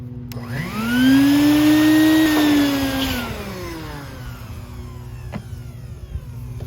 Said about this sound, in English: this is my vacuum